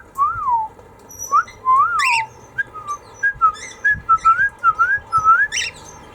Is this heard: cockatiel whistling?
yes